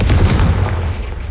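Confringo fire spell blast in the Hogwarts Legacy video game, a single loud booming burst that decays quickly into a rumbling tail, heard alone.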